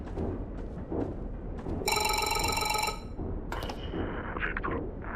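A telephone rings once in a drilling vessel video game, a bright bell trill lasting about a second, followed by a short electronic tone amid faint background noise.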